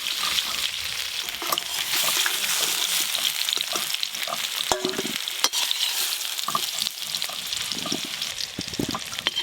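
Potatoes fry in a pan for aloo dum with a continuous bright sizzle, broken by the scrape and clack of stirring throughout.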